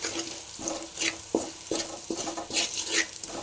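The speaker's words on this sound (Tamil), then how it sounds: "வெங்காயம் நல்லா ஃப்ரை இருக்குது இப்போ வந்து சிம்மில் வச்சிடலாம்" Small onions frying in a pan for a pickle, with a spoon stirring in repeated scraping strokes against a soft background sizzle, close and moderately quiet, no voices.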